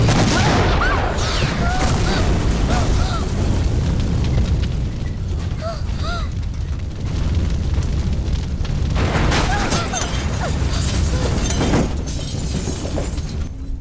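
Car explosion in a Tamil movie scene, a dense roar of booms and shattering debris sustained throughout, with dramatic music and brief voices mixed in.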